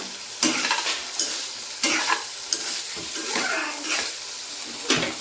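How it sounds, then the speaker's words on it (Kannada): Cubes of paneer sizzle and fry in a pan while being stirred, with sharp scraping strokes of a spatula recurring every second or so over a steady crackle, close and fairly loud. "ಅದಕ್ಕೆ ಫಸ್ಟಿಗೆ ಚೆನ್ನಾಗಿ ಫ್ರೈ ಮಾಡ್ಕೋಬೇಕಿದು."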